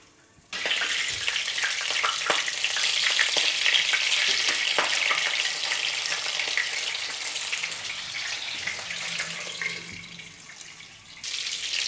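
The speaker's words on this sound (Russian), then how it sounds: "так котлетку выкладываем для жарки" Chopped fish cutlets fry in a covered pan over medium heat, giving a steady, dense sizzle and crackle that starts abruptly and runs on without speech.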